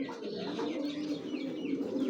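A silver pigeon cooing softly and fairly faintly, with low throaty murmurs running on continuously, and no voice over it.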